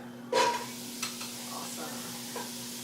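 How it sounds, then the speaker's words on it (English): Chopped Canadian bacon dropped into a hot pan, a sudden burst of hiss at the start settling into a low steady sizzle, with a few faint utensil taps and a constant background hum, no speech. "So now we're going to cook the Canadian bacon. We got it all chopped up, and here we go."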